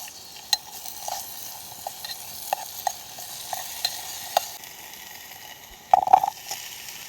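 Pounded paste frying in oil in a pot, with a spoon scraping and stirring in repeated strokes over a soft sizzle, ending in a quick burst of rattling stirs; no one speaks.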